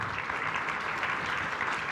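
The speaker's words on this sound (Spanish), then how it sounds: "Un aplauso, por favor." An audience at a human rights award ceremony applauds an honoree, a uniform, continuous wash of clapping at steady volume for the whole moment.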